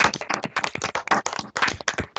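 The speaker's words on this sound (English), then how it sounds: "just give Alex a round of applause and just thank her for coming today." Online audience members clapping over their unmuted microphones to thank a guest speaker, a series of close, scattered claps in uneven bursts with brief gaps, loud and with no talk.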